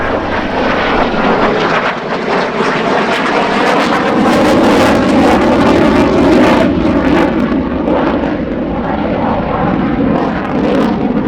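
A jet warbird at the EAA AirVenture Oshkosh airshow roars loudly and continuously at close range, the engine noise swelling steadily with no break for the whole stretch.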